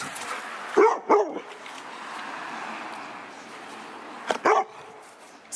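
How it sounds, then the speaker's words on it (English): A dog barks in two quick pairs of sharp woofs, one early and one near the end, set against a quiet outdoor background at a pet-sitting stop in Los Angeles. "Stop barking."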